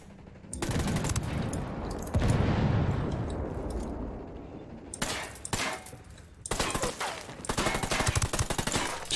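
Gunfire in the video game Ghost Recon Wildlands, with bursts of rapid shots and sharp cracks coming in clusters, separated by a long reverberant blast that slowly dies away.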